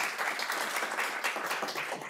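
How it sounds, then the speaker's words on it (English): Audience applause at a city council candidates forum: steady, dense clapping from a room full of people, fairly close and even in level throughout, with no voices standing out. "You can give her a round of applause on that opening."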